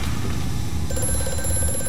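An old telephone bell rings in the horror video game Amnesia: A Machine for Pigs, a loud repeating ring over a dense, droning ambient background.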